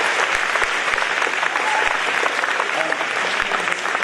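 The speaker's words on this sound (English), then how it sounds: "Give me a round of applause." Loud, dense round of applause from a presentation-evening audience, continuous clapping from many hands holding steady throughout with no speech over it.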